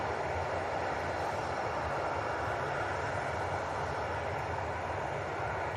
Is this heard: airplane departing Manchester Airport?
yes